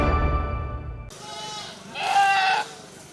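Goats bleat at a busy village goat market the day before Eid al-Adha. One nearby cry stands out clearly over a background of market noise and murmuring.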